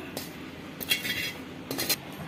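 A metal plate is lifted out of a cooking pot while making cheese nachos, giving a few short, close metallic clanks and scrapes spread across the moment, with no voices.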